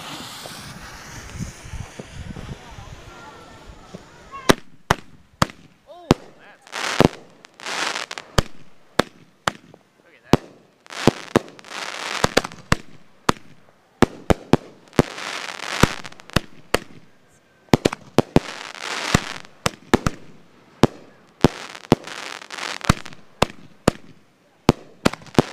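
Fireworks go off in a backyard Fourth of July show, a rapid series of sharp cracks and booms with crackling bursts between them, loud and close, continuing for a long stretch after a brief rumble at the start.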